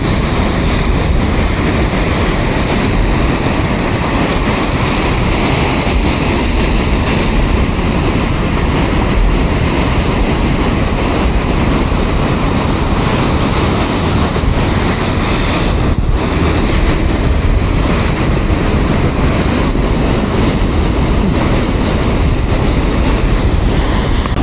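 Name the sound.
ocean waves breaking at a surf beach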